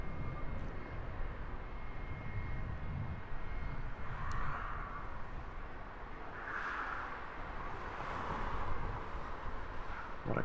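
An airliner in a striking livery passes at Heathrow Airport at sunset, a broad, steady engine roar that holds loud for the whole stretch with a few swelling surges and no talk over it.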